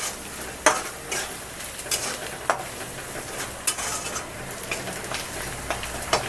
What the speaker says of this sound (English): Now do like this, mix it thoroughly.